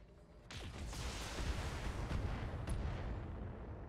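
Weapons fire from battling mechs in MechWarrior, including LRM missile launches, rolling as a dense, continuous barrage of booms and blasts that swells after a brief quiet start and stays loud to the end.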